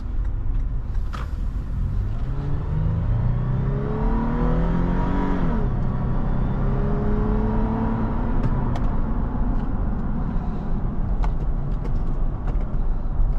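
A 2023 Toyota 4Runner SR5 Premium engine climbs steadily in pitch as the SUV accelerates through the gears, rising and dropping between shifts under constant road rumble.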